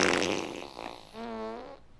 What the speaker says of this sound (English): I've ruled the fart inadmissible as evidence.